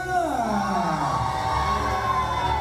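A group of children from a Jakarta orphanage shouts and cheers together at an event at Sea World Ancol, with rising and falling voices blending into a loud, continuous clamor.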